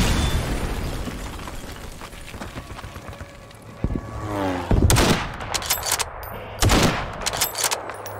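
Sniper and other gunfire in a Garry's Mod WW2 team deathmatch, with sharp, loud shots cracking out around the four-, five- and seven-second marks over a busy background of distant battle noise.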